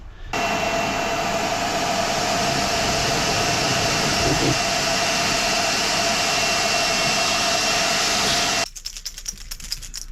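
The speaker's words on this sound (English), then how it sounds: "whilst I am drilling, I'm going to be hoovering up all the little metal filings" A drill boring into the metal body of a VW Crafter van while a vacuum hoovers up the metal filings, a loud steady whine close by that cuts off abruptly near the end.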